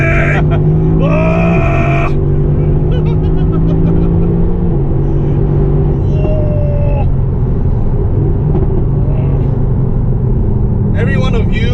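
A Mercedes-AMG GTC engine rumbles loud and close, with rising and falling revs and a deep continuous drone underneath.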